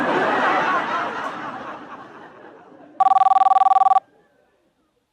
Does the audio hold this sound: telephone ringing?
yes